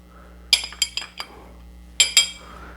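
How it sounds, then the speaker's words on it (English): Bar spoon clinking against a glass while an Old Fashioned with Maker's Mark bourbon is stirred, two quick bursts of bright metallic chinks close up. "Give it one more quick stir."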